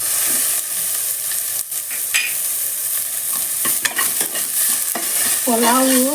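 Curry leaves sizzling in hot ghee in a pan for chicken pulao, a steady loud crackling hiss up close with stirring clatters and scrapes, ending in a rising squeal.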